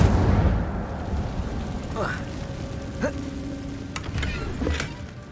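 A casting effect for the Incendio fire spell in the Hogwarts Legacy video game, a cave setting: a busy wash of low rumble with a rising whoosh and several sharp bursts, kept under fairly steady game ambience.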